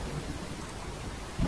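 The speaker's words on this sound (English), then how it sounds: "now it's starting to rain" Rain beginning to fall in the video game Fallout 4, a steady soft hiss of rainfall throughout, with a brief louder low rumble near the end.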